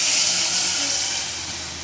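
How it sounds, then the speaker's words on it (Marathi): Water poured into a hot pan while making paya soup gives a loud, steady steaming hiss with no talk, easing off slightly toward the end. "त्यामध्ये तर मी पाणी घालून घेते बघा,"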